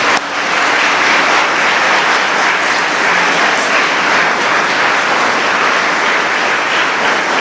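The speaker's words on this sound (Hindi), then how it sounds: "यीशु मसीह के लिए तालियां बजाएं और उसे धन्यवाद दें।" Steady, dense clapping from a congregation at a Hindi-language church prayer service, sustained and evenly loud from start to finish with no talk over it.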